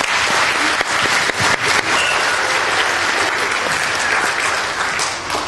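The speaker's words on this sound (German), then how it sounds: "für den tollen Applaus, den ihr uns hier gebracht habt" A studio audience at the end of a German television broadcast claps loudly and steadily, a dense, continuous wash of applause with no voices over it.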